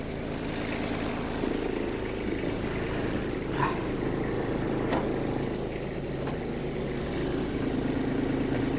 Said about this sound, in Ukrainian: давайте включимо трошки вал відбору потужності